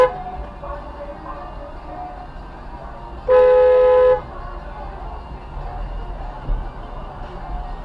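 A single sustained car horn honk, clear and fairly close, cutting through quiet traffic ambience for under a second.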